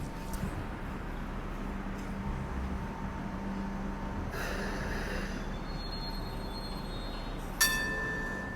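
A light rail train pulls into a platform at Tin Yat amid a low steady rumble, with a hiss of air midway and a sharp wheel squeal near the end, fairly quiet and distant overall.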